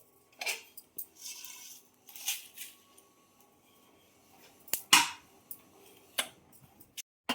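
Roasted millet, rice, chana dal and whole spices are scraped out of a pan with a metal utensil, giving a series of quiet clinks and scraping rustles separated by short pauses.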